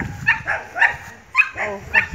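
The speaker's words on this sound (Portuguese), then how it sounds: "Olha o cachorro ali." A dog barks outdoors at a country property on a rainy day, giving several short, loud, close barks in an irregular series, with faint background noise between them.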